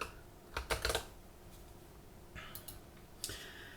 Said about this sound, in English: So I'm going to do this again, except this time I'm going to type security.